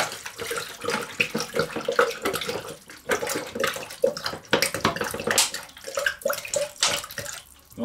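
Tap water running and splashing into a container to make salt water for electrolysis etching of steel, a steady gurgling pour with uneven splashy surges throughout, fairly close.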